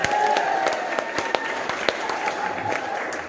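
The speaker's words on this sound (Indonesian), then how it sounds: "Tepuk tangan untuk anak-anak jenengan semua." Clapping from a consolidation meeting of non-civil-servant workers in Central Java, steady and broad with scattered louder claps and a faint tone in the background.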